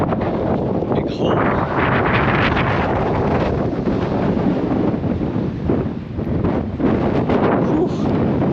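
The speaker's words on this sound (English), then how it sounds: "Oh, all that wind." Strong wind buffeting the microphone on a beach at Lagos, Portugal, a steady loud roar with gusty swells and faint surf beneath.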